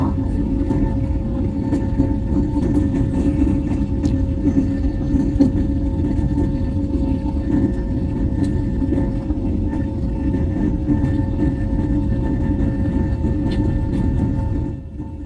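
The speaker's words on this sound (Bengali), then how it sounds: "তাই আপনাদেরকে দেখাতে চলেছি বিমান কিভাবে রানওয়ে থেকে টেক অফ করে" A passenger airplane's engines roar steadily through takeoff and climb from a runway, a loud continuous low rumble with a faint high whine, easing slightly at the very end.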